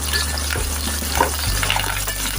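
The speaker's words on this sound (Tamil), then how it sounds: "ஒரு எழுபது எண்பது கிராம் இஞ்சி நல்லா வதக்கிக்கலாம்" About seventy to eighty grams of ginger sautéing in oil for a mutton gravy, a steady close sizzle with light stirring scrapes and a low rumbling hum underneath, with no talking.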